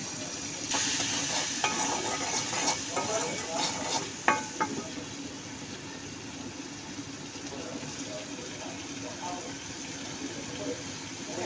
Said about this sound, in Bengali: এইদিকে আমি লাউয়ের খোসাটা চিংড়ি মাছ দিয়ে ভাজি করব